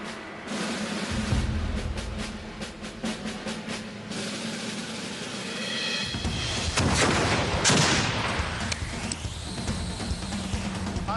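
Bursts of sharp, explosive blasts ring out, followed by a loud booming discharge of a medieval cannon and a rumbling, echoing tail amid outdoor noise.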